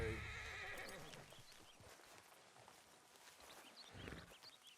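A horse in Red Dead Redemption 2 whinnies loudly at the start, then its hooves clop and shuffle through the rest, with a second rise of hoof sounds near the end.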